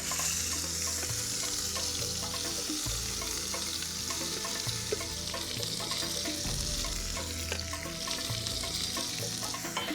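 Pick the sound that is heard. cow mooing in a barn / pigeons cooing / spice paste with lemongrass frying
spice paste with lemongrass frying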